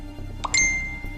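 A short phone message notification rings out, one soft tone followed by a brighter, ringing chime that fades over about half a second, alone in a quiet room.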